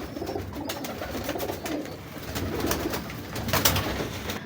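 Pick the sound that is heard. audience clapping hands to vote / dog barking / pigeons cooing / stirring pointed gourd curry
pigeons cooing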